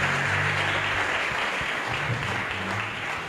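A church congregation at a convention claps for the Lord, loud, dense applause sustained throughout with no pause.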